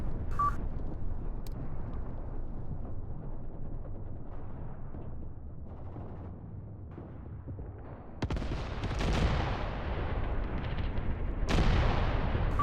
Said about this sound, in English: Impacts from artillery over here.